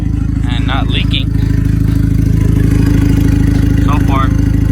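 A VW MK5 GTI fitted with a full 3-inch straight-pipe exhaust idles steadily nearby with a deep, constant rumble, while people talk briefly over it.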